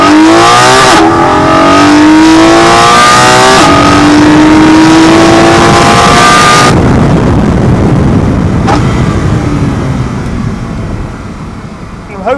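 A car fitted with an aftermarket air filter revs hard on an open straight road, its loud engine note climbing through several rising sweeps with gear changes between them, close and dominant before easing off toward the end.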